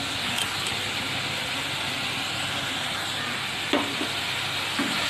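Steady sizzle of bitter gourd frying in oil with turmeric powder in a pan, a spatula stirring now and then with a couple of sharp scrapes, close and continuous.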